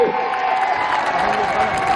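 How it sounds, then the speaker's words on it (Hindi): Crowd at a 2014 political rally in Sangrur applauds and cheers in a broad, continuous wash of clapping, with a voice audible over the noise. "एक बारी जोरदार तालियां मार दो केजरीवाल की जगह पे"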